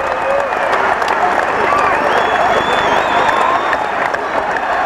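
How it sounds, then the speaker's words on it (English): A football crowd applauds its Reading FC champions in pouring rain after the 1993/94 Division Two title, steady dense clapping and cheering filling the air continuously, loud and close with scattered whoops rising above. "In pouring rain, these local heroes soaked up the applause."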